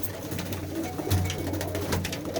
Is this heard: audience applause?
no